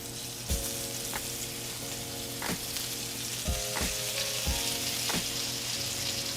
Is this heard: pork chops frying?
yes